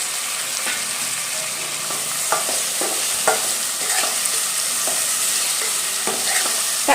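Tomatoes fry in a pan with turmeric and ginger-garlic paste, giving a steady close sizzle. Intermittent scraping taps come from stirring.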